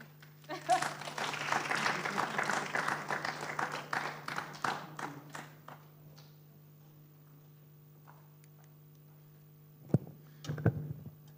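Audience applause at an IT congress session, a dense burst of clapping lasting about five seconds and then dying away to quiet, followed by a few faint isolated claps near the end over a steady hum.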